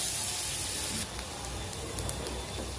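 Onions and tomato paste sizzle in a pan for a thaakali chutney, a soft steady hissing fry that drops slightly in loudness after the first second.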